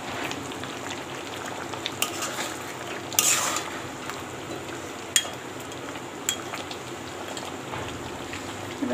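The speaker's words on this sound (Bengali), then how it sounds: "আলুগুলো দিয়ে দিলাম, এটার সঙ্গে আমি কষিয়ে নেবো।" Raw potato pieces are stirred in a hot pan, giving a low steady sizzle with scattered scrapes and a brief louder hiss midway, close and alone with no voices.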